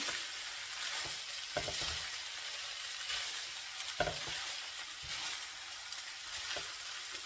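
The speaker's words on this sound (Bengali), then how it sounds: "পেঁয়াজ পাতা এখন আমি ভালো করে এখন ফ্রাই করে নেব" Spring onion greens frying in a pan for a Chinese dish, a continuous hiss of sizzling oil with occasional soft clacks of a spatula stirring, no speech.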